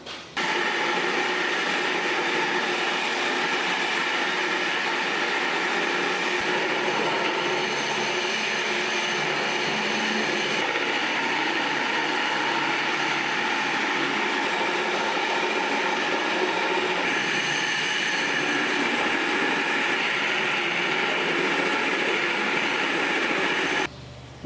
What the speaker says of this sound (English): The cool thing about this machine is that it hooks right up to the shop vac